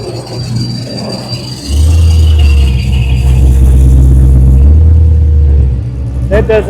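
A modified car engine at an outdoor car show gives a loud, steady revving rumble held for several seconds, then drops back to idle, with music and voices around it.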